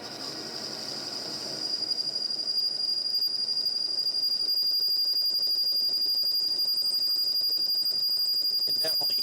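Lathe cutting tool chattering loudly through an interrupted cut on hard material in a pump repair, a harsh continuous high-pitched ringing squeal that grows stronger after the first couple of seconds and holds steady.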